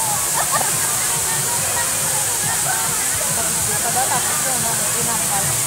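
Steady, loud rush of a waterfall in Hong Kong, a dense continuous roar of splashing water close by, with faint voices barely audible under the noise.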